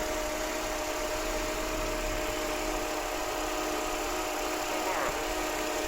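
A car engine runs steadily after a head gasket repair done with DIY water glass, a constant close idle hum with no change in pace.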